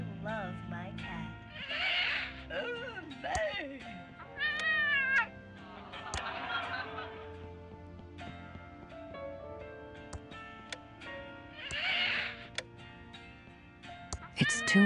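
Cat meows from a TV show about crazy cat ladies playing in the video game Thimbleweed Park, several drawn-out meows and yowls spaced apart amid other quieter tones and clicks, fairly soft overall.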